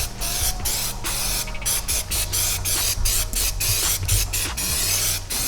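Aerosol trim adhesive sprayed onto the carpet of a crashed Aston Martin Vantage interior, a loud close hissing spray in rapid short pulses, nearly continuous for several seconds.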